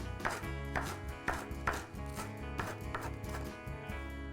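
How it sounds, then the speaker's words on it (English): A knife chops fresh parsley on a board in a quick, even rhythm of light, close cuts, several strikes in a row, fairly quiet with no talk. "I'm gonna add about 1 or 2 tablespoons of fresh parsley chopped up"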